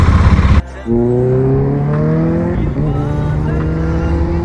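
A 2023 Kawasaki ZX-10R superbike engine revving up with a high-pitched rising whine, loud and close, holding a steady drone after the initial burst.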